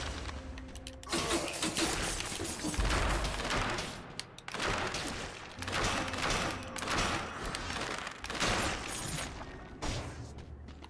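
Ceiling turret firing in the video game Dead Cells, a dense, continuous barrage of rapid gunfire-like bursts filling the whole stretch with brief dips in intensity.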